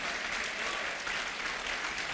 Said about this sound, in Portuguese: Vamos aplaudir a Ele pelo que nós somos.